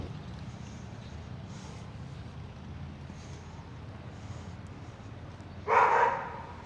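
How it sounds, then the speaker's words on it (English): A street dog in Tarija, Bolivia gives a single sharp bark near the end of a cool evening on the street, set against constant wind rumble and distant traffic-like hiss. "Oh look, we got some street doggies."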